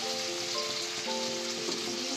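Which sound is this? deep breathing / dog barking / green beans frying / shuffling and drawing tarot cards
green beans frying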